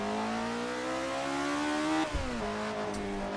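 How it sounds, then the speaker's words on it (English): Car engine in Assetto Corsa revs steadily high, then blips sharply and drops in pitch on a downshift, a loud sustained racing-engine drone with no talk. "I love the downshift sound. You can really hammer the throttle on downshift."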